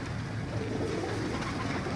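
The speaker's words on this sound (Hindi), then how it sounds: "ये बड़े साइज के कबूतर हैं जी" Large Rampuri pigeons coo steadily, with low, soft calls blending into a continuous close murmur through the whole stretch.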